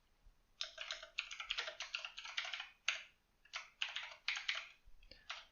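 Quick bursts of keystrokes on a computer keyboard click in uneven runs with short pauses between, close and fairly quiet, with no talking.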